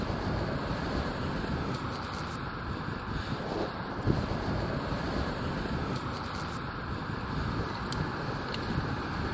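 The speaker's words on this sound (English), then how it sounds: "Really quite windy right now." Steady, roaring wind buffeting the microphone while cycling city streets in Toronto, a continuous broadband rush with slight gusts and no voices.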